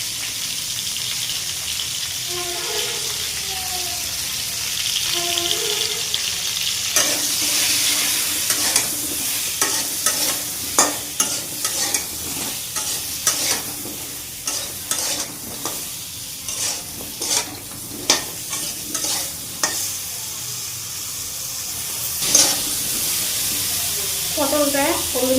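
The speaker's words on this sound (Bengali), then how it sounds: "এবার একটু তেল দেব, দিয়ে পটলগুলি ভাজবো" Sliced pointed gourd (potol) sizzles steadily in hot oil in a pan, with repeated scraping stirs and spatula clacks over the continuous frying hiss; a voice talks briefly.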